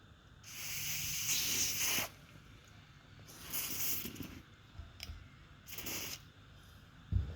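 Lanox lubricant sprays into a fishing reel as several short, quiet hissing bursts separated by pauses.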